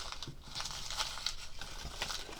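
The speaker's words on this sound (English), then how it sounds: "Excuse the paper rustling." Paper rustling and crinkling close by while garage sale finds are handled: pink Fostoria milk glass, belt buckles, pins and tiny figurines. Soft, continuous crackly handling sounds with several sharper crinkles, and no speech.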